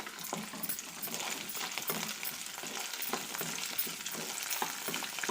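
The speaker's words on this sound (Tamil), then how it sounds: "இது எல்லாத்தையும் சேர்த்து நல்லா வதக்கிக்கலாம்." Onion, curry leaves, dried chillies and tamarind sauté in a pan for a coconut-free roasted gram chutney, giving a close, steady sizzle with scraping stirs and occasional ladle clinks.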